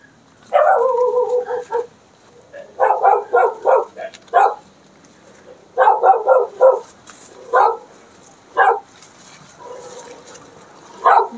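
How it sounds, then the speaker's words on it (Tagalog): A dog barks loudly and close by in clustered bursts of sharp, repeated barks, with a few brief pauses and occasional higher yips between the volleys. "Aso."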